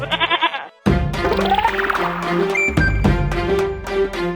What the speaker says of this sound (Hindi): बकरी बाहर जानी चाहती है।